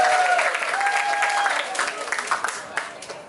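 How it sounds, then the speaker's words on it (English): Crowd applause at a political rally in a high school, a brief burst of clapping and cheering mixed with voices, loud and close. "Give him another round of applause."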